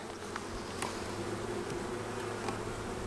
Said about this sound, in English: I'm just going to smoke those bees.